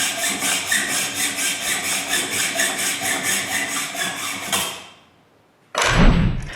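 A threaded rod being sawn by hand, about a dozen even, rhythmic rasping strokes close up, stopping abruptly before a short loud clunk at the end.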